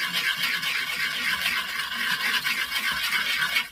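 Part of a Stanley 4 1/2 hand plane rubbed back and forth on sandpaper, giving a steady, close, gritty scraping rasp with rhythmic strokes and no pauses.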